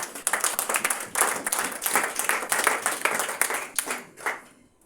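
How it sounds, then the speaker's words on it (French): A church congregation at an evangelical ministry in Essos, Yaoundé, claps in a lively, rhythmic burst, loud and close, with the beats falling in quick pulses before fading out at the end. "Applaudissons pour la parole de Dieu."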